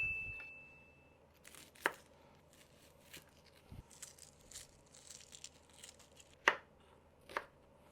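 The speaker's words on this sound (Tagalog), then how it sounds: "Hiwain natin siyang maliliit." A knife chops onion into small pieces on a board, a few sharp isolated knocks standing out among softer irregular cuts in a quiet kitchen.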